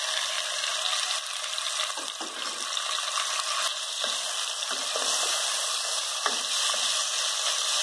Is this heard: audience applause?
no